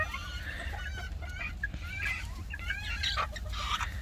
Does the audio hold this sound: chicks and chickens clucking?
yes